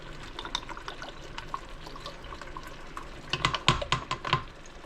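Liquid is poured into a hot pan to deglaze it while making French onion soup, giving a soft sizzle and crackle with bursts of spattering toward the end, close and moderately quiet.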